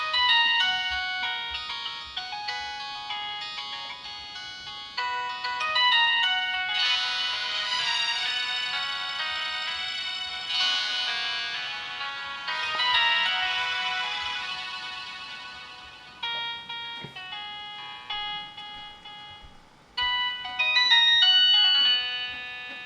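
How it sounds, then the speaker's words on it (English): A custom mobile phone ringtone set for family calls plays alone as a bright electronic melody, with steady, clear notes running the whole time and no voices over it. "This is the one I have for my family."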